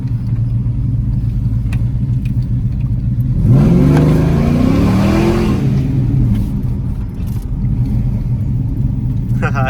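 A street-driven car with a tuned 450hp LS engine revs and accelerates hard from about 3.5 seconds, its rising engine note climbing loudly over a steady rumble of idle before settling back.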